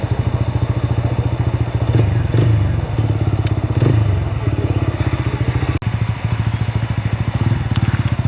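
A scooter riding over a slippery road in eastern Nepal: a close, loud engine putters in a fast, even beat, with occasional clattering bumps and one sharp thud near the end.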